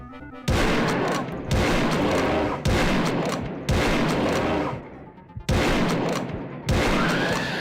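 Repeated loud shotgun blasts fired at demons in the horror shooter Realms of the Haunting, six heavy booming shots in a steady rhythm, each about a second apart with a short ringing tail and no talk.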